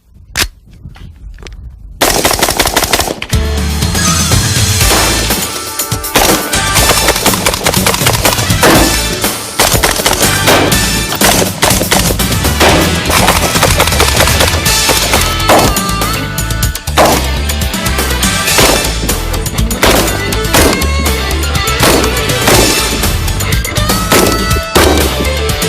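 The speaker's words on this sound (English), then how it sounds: "this is the AR-15, my favorite rifle" AR-15 rifle firing, loud repeated shots and cracks spread across a long stretch, dense and punchy with little pause between them.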